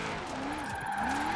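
In the Forza Horizon 4 racing game, a car drifts with its tires skidding and squealing in rising and falling wails over a steady engine drone.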